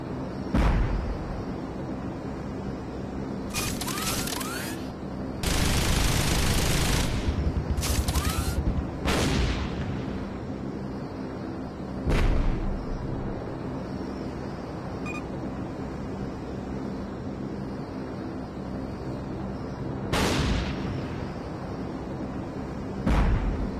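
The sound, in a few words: gunship gunfire and explosions on zombies, from a video game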